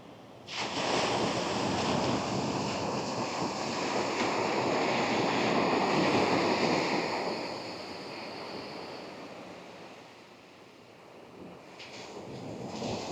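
Wind over the sea as a DJI Neo drone flies low in manual FPV mode: a loud, steady rush of wind and surf that swells, then eases off before rising again.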